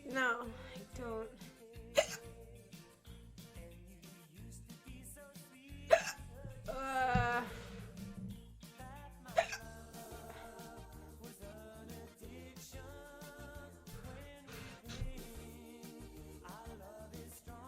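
A streamer hiccups during a live stream, with a few sharp, sudden hiccups spaced several seconds apart, heard over steady background music and some voice.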